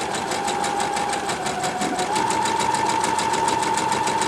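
A sewing machine runs a stitching test on scrap fabric after a thread jam is cleared, a fast steady mechanical clatter of needle strokes with a faint motor whine, close and continuous with no speech.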